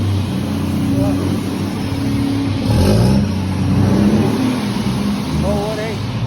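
A new Scania truck's engine revs on command, giving a steady deep diesel rumble that swells briefly at mid-clip before settling, close by, with people chatting over it.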